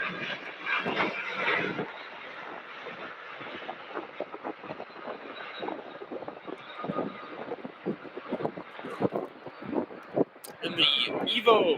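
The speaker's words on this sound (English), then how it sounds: "Look at that little Cessna citation taxi between all the UPS aircraft." A small Cessna Citation jet taxis among large cargo aircraft at Louisville airport, a steady whining engine hum with wind noise on the microphone and a brief rattle near the end.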